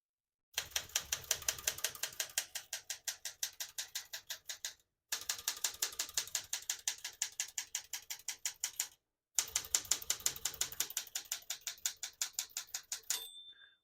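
Typing on a 1969-72 Smith-Corona Galaxie Deluxe vintage portable typewriter: three bursts of rapid, even key strikes, each several seconds long and separated by short pauses, close and crisp, ending in a small bell-like ring.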